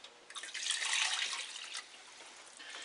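Cups of water are poured into a pot on the stove with tomato sauce and diced tomatoes for cooking pasta, making a steady, splashing pour that swells and then trails off.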